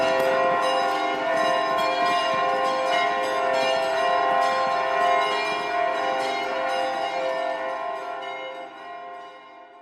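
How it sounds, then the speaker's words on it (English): Video game church bells in a belfry, pulled by their ropes, peal continuously in a dense, ringing clang of overlapping tones, loud at first and gradually fading away. "An idea dawns on you, and you begin to pull at the bell ropes."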